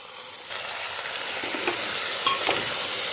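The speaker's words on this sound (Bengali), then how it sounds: "এবারে মশলাটাকে আরেকটু কষিয়ে নেব।" Ginger-garlic paste and spices sautéing in hot oil in a Bengali home kitchen, a steady close sizzle with a few scraping stirs of the spoon and no talk.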